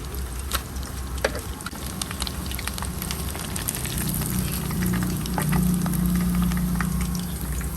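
Steady, dense sizzling of chicken frying in hot oil in a pan, close by, with a constant crackle and occasional pops, no voices.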